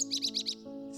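A sparrow gives four quick, bright chirps in an even rhythm, close and clear, over soft steady background music that continues after the calls stop.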